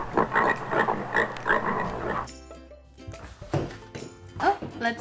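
A voice imitates a pig, grunting and oinking in short bursts, mixed with other talking and noises close by.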